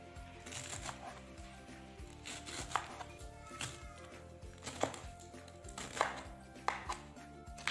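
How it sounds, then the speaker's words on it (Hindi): A knife chops fresh spinach leaves on a board for sarson ka saag, with a string of close, crisp, fairly regular cuts and thuds over a soft musical background. "अब करते हैं पालक की कटिंग।"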